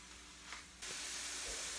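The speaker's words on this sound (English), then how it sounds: "My sausage is browning nicely." Sausage browning in a pan for a keto Zuppa Toscana soup, giving a steady sizzling hiss that jumps louder partway through and then holds a bright, close frying sizzle to the end.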